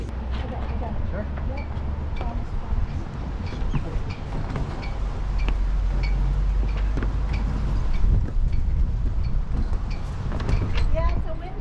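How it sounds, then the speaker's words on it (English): Strong wind roars and buffets at a boat dock during a high-wind docking attempt, a loud, gusty rush that swells in the middle, mixed with knocks and rattles. "Yeah, it's a windy day."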